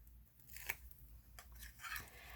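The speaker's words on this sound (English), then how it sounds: "I want to take my backing off of my tear and tape" Backing peeled off double-sided tear tape during papercraft box making, a few short crisp ripping and crinkling strips, close and quiet in a still room.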